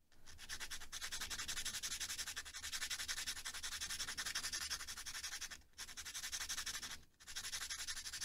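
A graphite pencil being sharpened by rubbing it on sandpaper, a quiet close scratchy rasp running in steady back-and-forth strokes with two brief pauses, no voices.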